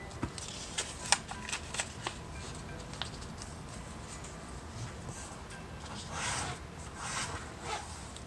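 Paper being folded and creased by hand for an origami flying bird, with soft crinkles and a few sharp crackling snaps close by, quiet and intermittent with no talking.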